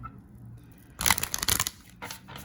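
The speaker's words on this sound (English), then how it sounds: "Shuffle the other half now." Tarot cards shuffled by hand during a monthly reading: a few quick, crisp riffling bursts close up, the loudest cluster in the middle and a shorter one near the end, with no talking.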